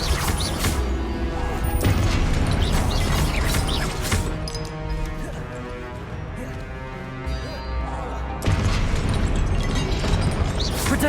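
Confringo blasting spells explode in a Hogwarts Legacy battle. Loud, dense crashes and booms rumble almost nonstop over a busy game soundscape, with a brief lull near the middle before another burst.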